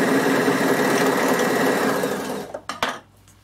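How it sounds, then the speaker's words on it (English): A Bernina overlocker finishes the side seam of a dress, whirring fast and steadily up close, then winding down with a few quick clicks and thumps as it stops. "Nothing like an overlocker."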